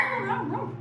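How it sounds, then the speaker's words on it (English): A pet dog, a female, makes short whining bark-like vocal sounds at close range in a home while someone sets up a camper, with a steady low hum underneath. "Stop your barking."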